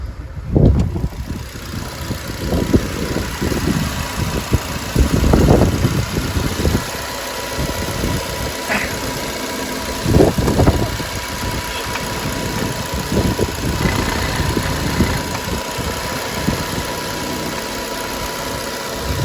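A 2009 Nissan Qashqai 1.6 petrol engine idles steadily nearby, a low continuous rumble with occasional clunks and knocks from handling around it.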